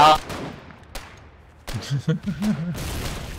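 Sniper and rifle fire in the video game Foxhole, a few sharp, widely spaced shots ringing out clearly, with a person speaking briefly between them.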